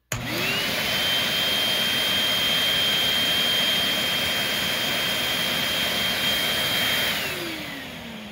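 A Tristar A101S canister vacuum cleaner switches on and runs steadily with a loud, close, high-pitched motor whine that rises at start-up and holds for several seconds before slowly winding down.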